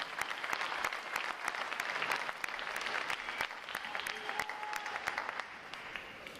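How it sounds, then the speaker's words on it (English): An audience at a U.S. Navy boot camp graduation ceremony gives a steady round of applause, a continuous wash of many hands clapping at moderate distance with no talking over it. "how about another round of applause for our unit individual award performance?"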